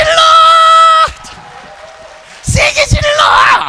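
A church congregation shouts and cheers together at a Sunday afternoon praise service; a loud sustained burst of voices breaks off, falls to a quiet lull, then rises again in ragged cheering.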